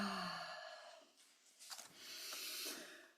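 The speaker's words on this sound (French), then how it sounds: "Ah bah ça baille, ça baille," A person yawning during a relaxation session, a long drawn-out breathy exhale with a sighing tail, followed by softer breathy sounds, fairly close and alone without talk.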